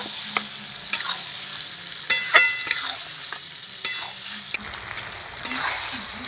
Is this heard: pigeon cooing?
no